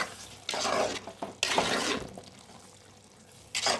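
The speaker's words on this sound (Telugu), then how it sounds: "ఒకసారి కలుపుకుందాం అంతా కలిసేలాగా." A spoon stirs a brinjal, tomato and sand whiting fish curry in a pan, giving a few close scraping, sloshing strokes in bursts over a soft background sizzle.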